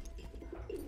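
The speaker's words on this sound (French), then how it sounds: "Prends un petit pigeon, lui mets le petit message sur les pépates." A messenger pigeon coos briefly in Battlefield 1, a short soft cooing over a low game background hum, with no talk.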